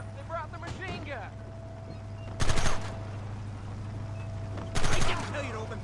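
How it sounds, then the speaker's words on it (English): Two loud bursts of machine gun fire go off in Red Dead Redemption, each a short rattling volley standing out over a low engine-like drone, with faint voices talking in between. "Look, they brought the machine gun!"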